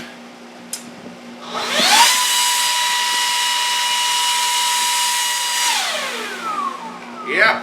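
A big Makita leaf blower with a wide nozzle spools up into a steady, loud whine, holds its pitch for several seconds, then winds down near the end; a brief word is spoken before it starts.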